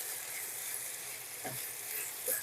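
Bottle gourd greens and stalks fry in a pan with a soft, steady sizzle, and a brief scrape of stirring cuts in near the end.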